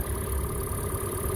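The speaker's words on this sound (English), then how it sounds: "Engine sounds spectacular, the way it should sound." A 2013 Hyundai Elantra engine runs at a steady idle, a smooth even hum with a faint high whine above it, heard up close with the hood open and no talk.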